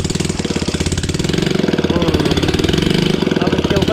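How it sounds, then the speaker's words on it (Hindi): An old Royal Enfield Bullet Standard 350 engine runs without a silencer, a loud close rapid thumping beat that holds steady throughout, with voices faintly under it. "इस ओल्ड बुलेट का इंजन अंकल जी ने पूरा सेट कर दिया और ये फाइनली स्टार्ट भी हो गया।"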